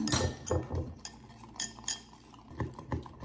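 A utensil mixes kale salad with tahini sauce, making close clinks and scrapes against the bowl in quick irregular strokes, with a few sharper chinks.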